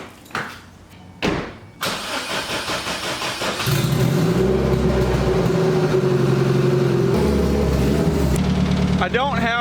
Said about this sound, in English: So I'm going to fire this thing up, pull it out of the garage.